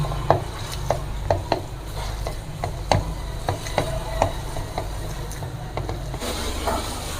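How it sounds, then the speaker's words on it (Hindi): Minced camel meat being mixed with spices by hand in a bowl, a steady run of soft squishes with sharper taps and clinks at an irregular rhythm, close and moderately loud. "अब इसको हम करेंगे मिक्स, अच्छे से इसको मिक्स कर लेंगे ताकि मसाले आपस में घुल मिल जाएं।"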